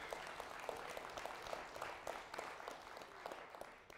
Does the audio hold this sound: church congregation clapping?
yes